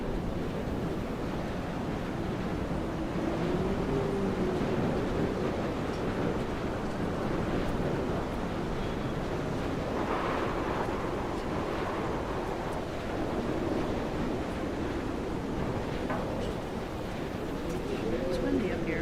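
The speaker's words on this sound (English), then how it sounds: "It's windy up here." Wind gusting over a cliff top in the video game Dear Esther, a steady, full roar with a surf-like wash that persists throughout, with faint, indistinct tones drifting beneath it.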